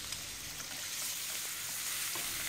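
Shallots and garlic frying in hot oil for braised pork belly with pepper, giving an even, bright hiss of sizzling oil at moderate loudness with no pauses.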